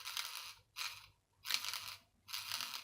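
A failed vacuum cleaner motor gives faint, harsh scratching and grinding in four short rasping bursts separated by near silence, heard up close.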